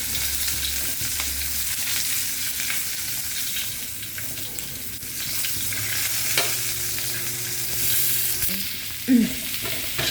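White onion frying in a pan while bangus is being cooked, a steady soft sizzle with occasional stirring scrapes, close and continuous, with no talking.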